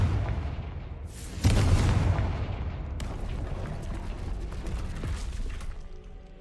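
A Confringo fire spell cast in Hogwarts Legacy bursts into a loud explosive boom, followed by a rumbling tail and a second sharper blast a moment later.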